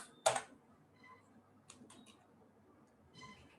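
Computer keyboard typing while writing a playbook, one sharp loud key strike followed by scattered softer clicks in small bursts, close and quiet with a low background hiss.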